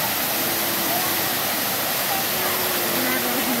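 A waterfall in Bonito, Bahia, rushes loud and close as a continuous, dense roar of falling water, with faint voices under it.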